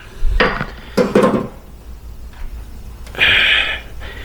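A hammer strikes a Jeep WJ steering part with the nut fitted on, giving a few sharp metallic knocks near the start, then a quieter tap and a final ringing clang.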